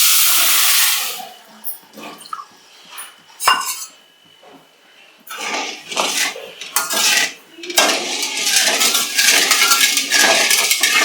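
Sugar syrup for Tirunelveli halwa stirred in a pan, loud metallic scraping and clanking of a spoon against the pan in irregular bursts with hissing sizzle between, no voices.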